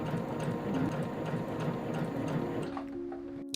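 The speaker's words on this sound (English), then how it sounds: "I try a couple of the different stitch patterns here just to get familiar with the machine, and it stitches really evenly" A heavy duty sewing machine, a Feiyue e350 or Singer 4452, stitches evenly through layers of wool with a steady, close mechanical whirr that runs without a break before stopping near the end.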